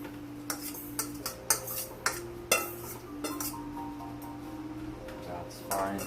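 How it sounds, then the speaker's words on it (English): Buffalo-sauced pieces set one by one onto an oven pan, giving light metallic taps and clinks at an irregular pace over a low background hum, with a voice speaking faintly in between. "So carefully place them on your oven pan"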